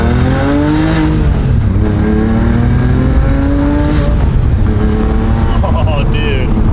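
A Porsche 997 Carrera S flat-six engine revs loudly and close, its pitch climbing and falling through several smooth sweeps before a sharp rise near the end, with continuous steady engine drone throughout.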